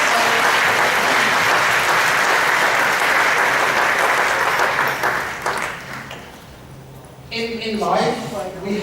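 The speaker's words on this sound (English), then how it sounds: "give yourselves a round of applause" An event audience in Benidorm gives a loud, sustained round of applause that tapers off after about six seconds, then a voice speaks over the fading claps.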